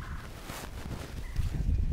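A hen held by hand and turned upright makes rough, agitated clucking and squawking up close, with handling noise, the sounds growing louder toward the end.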